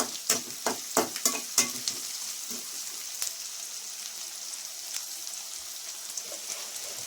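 Onions frying in a pan for Andhra-style chicken curry: a steady, close sizzle that opens with a quick run of spoon scrapes and stirring clacks, then settles into a softer, even crackle.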